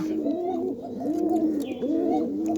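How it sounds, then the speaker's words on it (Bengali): A pigeon coos nearby in low, rolling, repeated phrases, soft and throaty, with no talking. "এই যে কবুতরটা"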